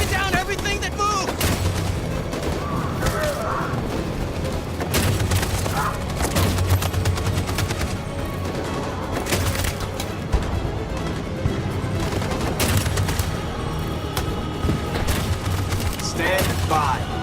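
Sustained machine gun fire rips through a battle in Detroit: Become Human, dense bursts and booming impacts running almost nonstop under shouted orders and voices.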